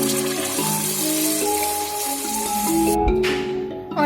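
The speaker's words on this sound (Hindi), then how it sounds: "5 गिलास पानी ऐड करेंगे।" Five glasses of water pour into frying masala gravy for besan bariyan, a hissing, sizzling rush of liquid hitting the hot pan with steady splashing and bubbling over several seconds.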